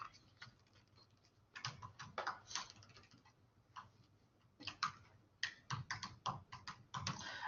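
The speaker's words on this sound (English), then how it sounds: "I'll go ahead and type the answers" Rapid keystrokes on a computer keyboard come in uneven bursts and pauses, close and clear over a quiet room background, with no talking.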